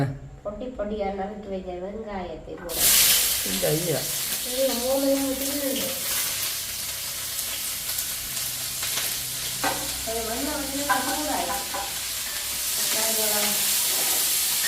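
Onions sizzle and hiss loudly in a hot pan from about three seconds on, a steady frying crackle with a person talking over it throughout.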